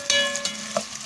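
Onions sautéing in oil in a pan for chana dal pulao, a soft steady sizzle with a few spoon scrapes and stirring clicks, close and alone.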